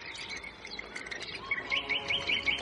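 A bird chirps in quick, bright bursts, the short tweets repeating faster and louder toward the end, close by over a faint outdoor background.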